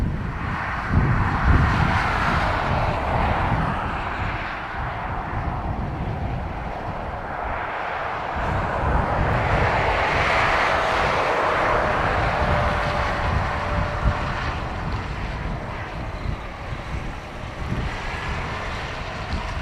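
A Lufthansa Airbus A321 roars at Dublin Airport, a loud, broad jet rush that swells and fades gradually over its run, with no voices.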